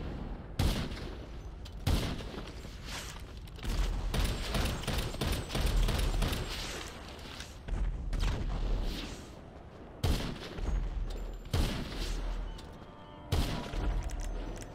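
Gunshots in a video game fight crack out in quick, irregular bursts, loud and close, layered over a constant wash of battle noise with brief pauses between volleys.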